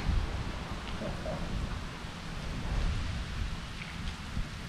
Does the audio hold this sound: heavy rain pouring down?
yes